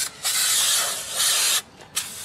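Aerosol cleaner sprays dirt off the rear brakes of a 1998 Ford F150 in close, loud hissing bursts: two long blasts, then a couple of shorter spurts.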